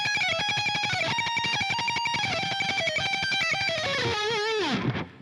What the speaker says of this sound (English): And now we have this little picking sequence that sounds like this.